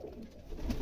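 A pigeon cooing once, soft and close, a short low throaty call.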